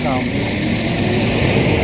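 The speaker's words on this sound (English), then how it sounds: "The garbage truck is going by me" A garbage truck drives past on a street beside a sidewalk, its loud, broad engine rumble and whooshing noise steady throughout, with a brief whining tone near the start.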